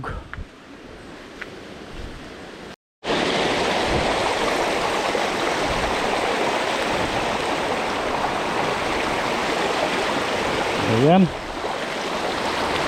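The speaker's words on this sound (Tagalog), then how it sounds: "ilog po rito, napakalamig po ng tubig." Flowing water rushes steadily and loudly, like a river close by, with a brief spoken word and a dog bark near the end.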